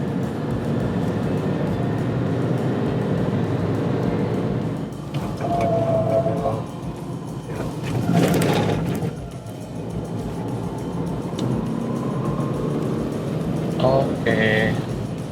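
A Geely Coolray drives on the Mandalika circuit, giving a steady, loud wash of engine and road noise from inside the cabin, with faint voices now and then.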